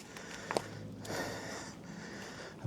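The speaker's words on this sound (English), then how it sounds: "You can hear me breathing." Heavy, labored breaths with a few sharp sniffs and snorts come from someone climbing a steep hill on an orienteering course, close to the mic and uneven in rhythm.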